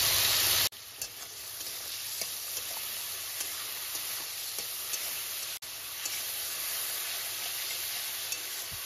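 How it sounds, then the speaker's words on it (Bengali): Prawns seasoned with turmeric and salt frying in oil until browned, giving a steady close sizzle with a few small pops and a brief clatter partway through. "চিংড়ি মাছগুলো তোমরা লক্ষ্য করলে দেখতে পারবে একদম ব্রাউন করে ভাজা হয়ে গেছে"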